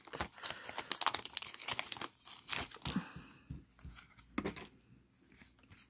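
A Pokémon-style trading card booster pack from an ectoplasma box set is torn and crinkled open, with dense foil crackling and ripping that fades into sporadic crinkles, close-up with no talking.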